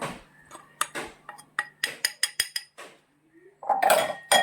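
A spoon stirs maida and rice flour in a bowl for achappam batter, giving a quick run of sharp clinks and taps against the bowl. A louder, denser scraping burst follows near the end.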